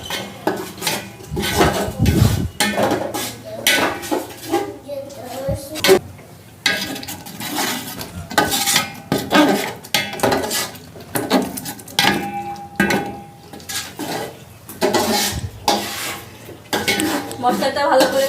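Metal spoon scraping and clanking against a cooking pot while spices and Eid sacrificial meat are stirred, irregular close knocks and scrapes with people talking intermittently.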